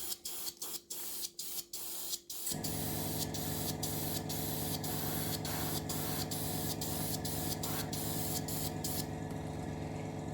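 Paint sprays onto an HMS Queen Elizabeth scale model: a few short spray bursts, then a long steady hiss of the airbrush that holds loud and close to the end.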